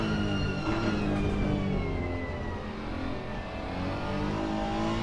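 A race car engine accelerates out of a corner with the power applied early, a loud, close rising roar with a brief dip around a short shift before pulling hard again, no talking.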